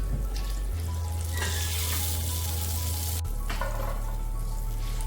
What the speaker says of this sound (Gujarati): હવે આપણે પાણી એડ કરી દઈશું